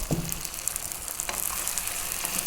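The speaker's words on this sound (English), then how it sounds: "now let's go for about 3 or 4 minutes, stirring all the time" Chili and cumin powder frying with chicken in a tomato stew pot while being stirred continuously, giving a steady soft sizzle with scraping stirs.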